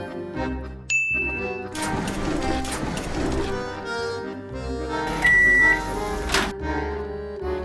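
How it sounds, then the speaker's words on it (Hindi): Microwave oven in the horror game Granny, humming with a bright ding near the start and another tone later, set among clattering game sounds and background music. "जब तक ये माइक्रोवेव हो रहा है तब तक बाकी चीजें ढूंढता हूं।"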